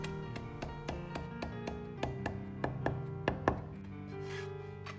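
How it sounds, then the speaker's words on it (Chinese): A knife chops scallions and cilantro leaves on a board, a quick, even series of about a dozen crisp, close taps that stop near the end. "再准备少许的香菜叶，一起切碎"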